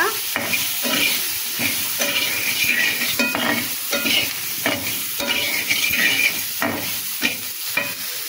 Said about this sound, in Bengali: এবার দিয়ে দিলাম নাড়াচাড়া